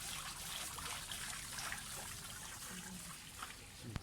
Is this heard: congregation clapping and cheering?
no